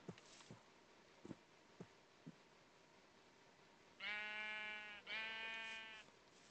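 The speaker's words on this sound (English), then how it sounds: "I hear the sheepy sheeps" Two loud, close sheep bleats from the video game Minecraft, each about a second long, follow a few soft footstep-like taps over a quiet background.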